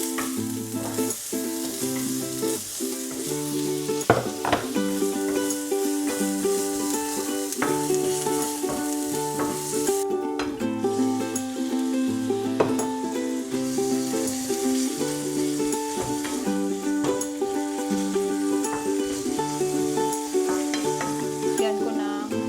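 Onions sauté in oil, a continuous close sizzle running throughout with occasional sharp clicks and scrapes of stirring, and a steady tonal hum beneath.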